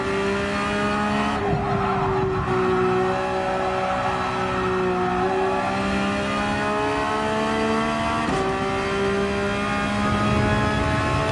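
A Porsche 911 races at Monza in Gran Turismo 7, its engine droning steadily close by with shifting pitch as it accelerates and changes gear, with no break in the sound.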